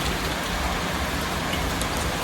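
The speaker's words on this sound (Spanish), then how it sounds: "sonido de la lluvia." Steady, fairly loud rain falls on a surface, a dense unbroken hiss of drops throughout, with no voices.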